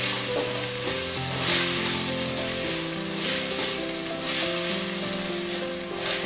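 Tomatoes fry and get stirred in a hot pan for a mushroom matar dish, making a steady loud sizzle broken by soft scraping stirs, with no voices.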